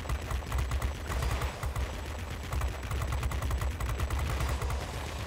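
Twin 20mm cannons on an F2H jet firing in World of Warplanes, a dense, continuous rapid hammering of loud shots with deep thumping low end, sustained without pause.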